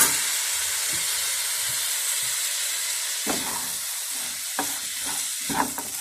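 Soy sauce poured into frying chicken filling, a broad steady hiss of sizzling in the pan with occasional spoon scrapes and taps, loud and continuous throughout.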